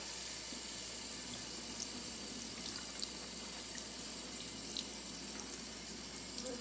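Vegetables for a bottle gourd, garlic and tomato stir-fry are rinsed under a running kitchen tap, a steady, fairly loud rush of water that stays constant throughout, with small splashes and no voices.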